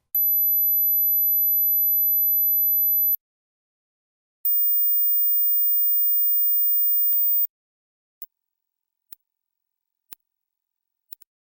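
Very high-pitched pure test tones from a hearing test play as two steady beeps of about three seconds each, rising in pitch, followed by a few faint isolated ticks in otherwise silent surroundings.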